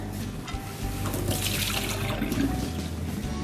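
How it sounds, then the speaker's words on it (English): Water pours and splashes steadily as it drains away, a continuous rushing trickle close by. "I'm just going to drain off the water"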